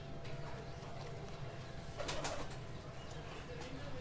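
A Teddy pigeon coos softly, a brief low burbling call in the middle against a faint, steady background hiss.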